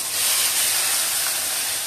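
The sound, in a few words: onions added to hot oil, sizzling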